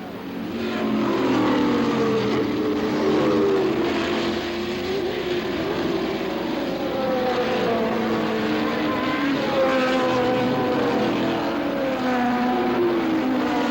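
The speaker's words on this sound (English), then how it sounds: "As the crew refueled the Gallus car, Unser kept the engine running" A race car engine running during a race, a loud continuous drone with slowly rising and falling pitch as revs shift, close and dominant throughout.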